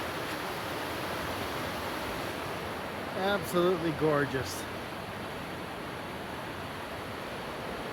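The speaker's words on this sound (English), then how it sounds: "Look at this river." A river in an Oregon forest rushes steadily as a constant broadband wash of water, with a person briefly speaking over it midway.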